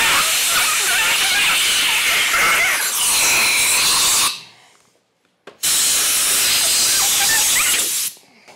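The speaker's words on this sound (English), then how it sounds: "you'll want to shove your air nozzle in here, and then as we're using the air, we're going to try and move around the grip while we pull it off" Compressed air from an air nozzle forced under a grip on a Yamaha R7 motorcycle makes a loud, steady hiss for about four seconds. It stops briefly, then a second strong blast continues.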